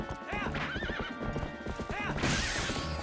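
In Zelda: Twilight Princess HD, a horse gallops with rapid clip-clopping hooves and lets out two rising whinnies, all close and fairly loud, with faint voice underneath.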